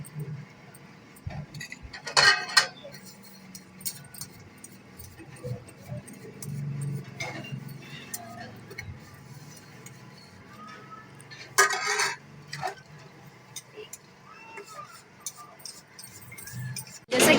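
Dishes being washed by hand at home, with intermittent clinks and jangles of utensils and metal pots against a low background hum, a few sharper clatters now and then.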